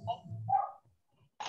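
A dog barks a couple of times in the background of a Zoom meeting, each bark short and moderately loud, followed by a brief pause.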